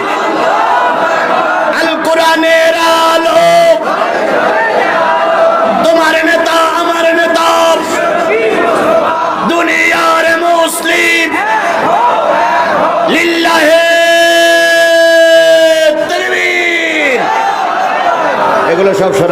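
A large crowd at an outdoor Islamic religious gathering roars takbir chants in unison in response to a leader's call, loud, sustained collective shouting in repeated waves.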